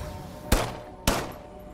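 Two sharp pistol shots from the System Shock video game, about half a second apart, loud and close, with a fast decay and no talk over them.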